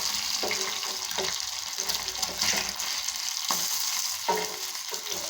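Two fish sizzle steadily in a frying pan while cooking Thoothukudi-style meen varuval, with a constant hiss of oil and occasional soft scraping from a spatula.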